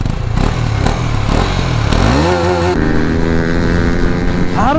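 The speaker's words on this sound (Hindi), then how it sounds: "तो एग्जॉस्ट नोट सुनिए आप लोग" A loud, heat-soaked motorcycle engine revving, its exhaust note rising and falling in pitch as it accelerates close by, with rumbling and clatter.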